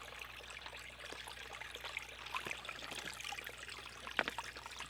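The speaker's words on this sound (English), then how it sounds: "finding it actually hard to get the water into the bag." Water trickles and pours unevenly into a tight Sawyer Mini water filter bag outdoors, a continuous low dribbling with small splashes and one brief louder gurgle near the end, fairly faint and with no talk.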